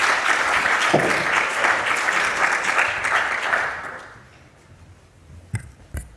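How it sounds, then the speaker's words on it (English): A conference audience applauds as a speaker is welcomed on stage, steady clapping for about four seconds that fades out, followed by a couple of faint knocks or handling sounds. "Professor Gert Pluska, kindly let's welcome him on stage with a clap."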